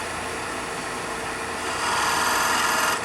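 Wood lathe turning a finial with light cuts: a continuous, loud, rough scraping hiss of tool on spinning wood, steady throughout and intensifying slightly toward the end.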